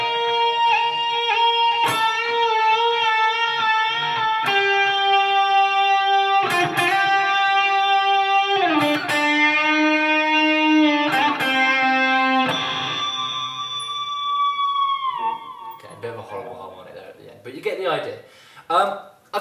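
A distorted electric guitar plays a full intro lick, a string of long sustained notes with bends and slides, close and prominent, trailing off into quieter scratchy picking near the end.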